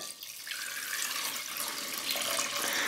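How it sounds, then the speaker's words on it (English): Water runs steadily into a cooking pot of peppercorns, garlic and anise seed for boiling beets, a continuous splashing pour that stays close and fairly loud throughout. "Now we're going to add 3 cups of water."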